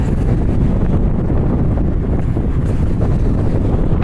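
Strong wind buffeting a microphone while walking across the Macdonald Bridge to Dartmouth, a loud, continuous low rumble and roar that stays steady throughout with no voices.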